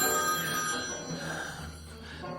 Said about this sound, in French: son portable bourdonne